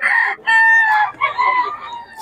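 A Boston Roundhead gamefowl rooster at a festival expo crows loudly and close, one drawn-out call breaking into a second phrase, with faint background murmur.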